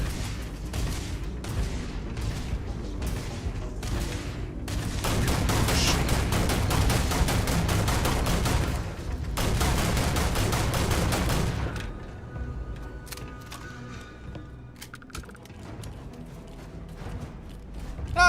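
Spaceship gunfire during combat in Starfield, loud rapid volleys of automatic shots in long bursts with heavy booms, easing into quieter mechanical tones and scattered blasts toward the end.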